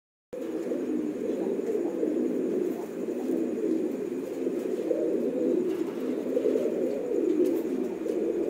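A flock of pigeons, including white and black birds kept for sale, coo in a steady, overlapping murmur that carries on without pause and with no talk.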